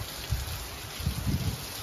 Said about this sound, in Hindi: कितनी जबरदस्त कितनी तेज बारिश यहाँ पर हो रही है